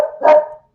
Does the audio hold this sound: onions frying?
no